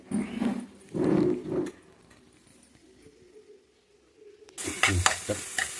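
Amaranth leaves (thotakura) frying in oil with peanuts, cumin, dried red chillies and garlic, heard as bursts of sizzling and stirring that pause into a quiet stretch, then return loud and crackling near the end.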